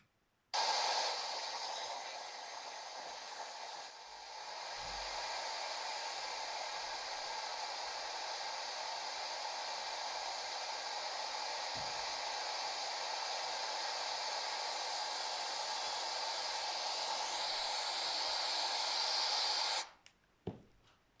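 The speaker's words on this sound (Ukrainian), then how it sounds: "Дітки, це шум вітру" A steady, loud rushing noise holds evenly for almost twenty seconds, like strong wind blowing without pause, then cuts off abruptly.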